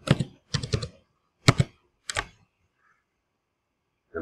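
Bursts of computer keyboard typing entered into the free Inkscape drawing software, coming in quick clustered clicks with short gaps, close and clear with no talking, then a stretch of silence.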